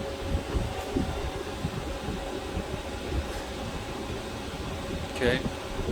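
A Mazda 3's air conditioning runs while being recharged with Freon, giving a steady, fairly quiet mechanical hum and fan-like whir that holds throughout, with a brief higher squeak near the end.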